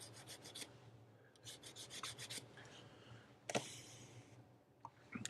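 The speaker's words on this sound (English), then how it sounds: "I'm just going to go in with some heavy sandpaper" Heavy sandpaper rubbed against a metal ring by hand, a close, quiet rasping in short repeated strokes with a few sharper scrapes and clicks between them, no talking.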